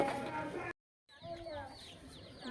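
Chickens and small chicks cluck and peep nearby in a village setting, with high chirps clustered after a brief silent gap and a voice talking at the start.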